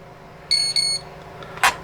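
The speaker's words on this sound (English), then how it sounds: "that's going to beep a whole bunch of times" An ESC in a Furitek MicroPython RC car gives two close, clear electronic beeps in quick succession during throttle calibration, followed by a short click-like blip, with no talking.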